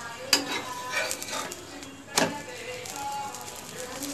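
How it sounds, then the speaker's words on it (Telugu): Egg-dipped brown bread slices frying in hot oil in a pan, a quiet crackle with two sharp utensil scrapes against the pan, soft and close. "ఆయిల్ వేసాను, ఇలా ఫ్రై చేసుకోవాలి. ఫ్రై అవుతున్నాయి చూడండి."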